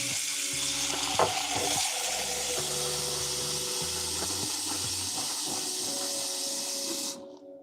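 Tap water runs steadily into a kitchen sink to soak dishes, a continuous close hiss with faint clinks and a low hum beneath, stopping abruptly near the end.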